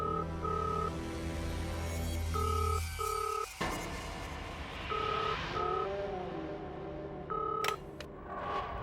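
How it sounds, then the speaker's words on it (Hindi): A telephone rings in repeated electronic double bursts, with a clunk and a soft voice in between. "रिसेप्शन पे फोन करता हूँ, कोई तो होगा वहां।"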